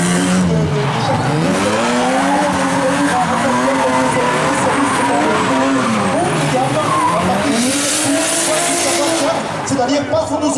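Rally cars with several hundred horsepower drift at a Wallonia rally drift show, engines revving and wailing in rising and falling sweeps with tires squealing, loud and close as a commentator talks over the noise.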